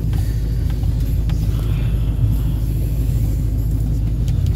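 A 2006 Duramax LBZ diesel truck engine idles after a cold start with a deep, steady rumble that holds constant and loud, with no talk over it.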